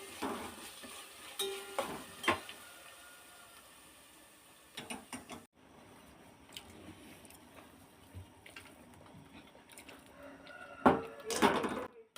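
Cooked rice being stirred into hot masala oil in a pan for masala chitranna, giving soft scraping and stirring noises with light sizzle, a few louder clattering bursts near the start and end, no talking.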